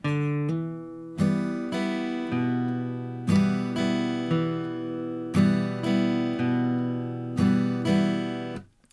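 A slow guitar phrase of plucked notes and ringing chords, each struck cleanly and left to sustain before the next, with no voices.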